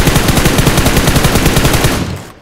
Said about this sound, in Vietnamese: mới nghe tiếng súng luôn à